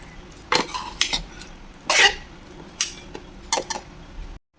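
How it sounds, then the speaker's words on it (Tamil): Tamarind rice being mixed with two ladles produces several close, bright clanks and scrapes of metal against a vessel, spaced irregularly with short quiet gaps between. "இப்படி 2 கரண்டி வச்சு இந்த மாதிரி கிண்டுங்க"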